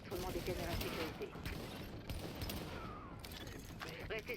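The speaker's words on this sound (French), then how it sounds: "Les coups de feu ont dû attirer l'attention des Rikers." Gunfire rattles in the video game The Division, with sustained bursts of shots and mechanical clatter. The sound forms a dense, continuous barrage at moderate volume.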